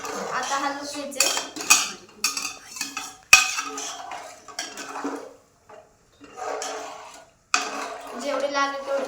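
Rice with coriander is stirred in a metal pot after three glasses of water go in, giving close clinking and scraping strokes with a short silent gap midway and a voice faintly underneath.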